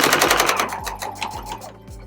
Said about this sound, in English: And then just sew straight down.